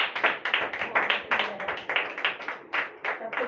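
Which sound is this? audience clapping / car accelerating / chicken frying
audience clapping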